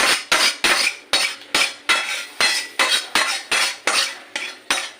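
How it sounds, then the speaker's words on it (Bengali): Chutney scraped from a pan into a bowl with a utensil, a rapid series of about fifteen loud, close scraping strokes in a steady rhythm. "আমার হয়ে গেছে, আমি একটা পাত্রে ঢেলে দিচ্ছি।"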